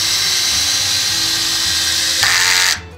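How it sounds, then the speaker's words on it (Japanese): A HiKOKI DV12DD driver drill drives a 90 mm coarse-thread screw, its motor whining loud and steady, shifting under load near the end before abruptly stopping. "コースレッドの90を締めてみたいと思います。"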